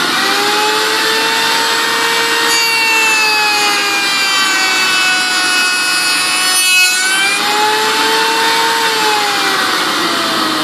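A router cuts a decorative profile along a wood edge with a backer board clamped behind it, giving a loud, continuous high-pitched whine with a steady tone that dips briefly partway through, with no talking.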